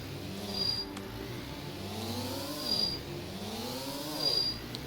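Simulated locomotive in the building game Stormworks, with wheel slip and no brakes, giving a low, faint engine drone with rising and falling whirring pitch sweeps and periodic high whines, no talk.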